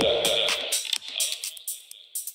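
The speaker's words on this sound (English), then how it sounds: "If you spin it counterclockwise, you get a low pass filter, and if you spin it clockwise, you get a high pass. So that sounds like this." DJ track in Mixxx run through a high-pass filter, the bass stripped away so only thin, hissy upper-range beats and cymbal-like pulses remain after a brief fuller start.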